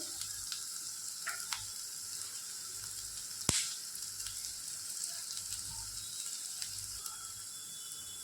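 Onions fry in oil for chicken curry, a faint continuous high sizzle with a sharp clack of a utensil partway through and a few small ticks.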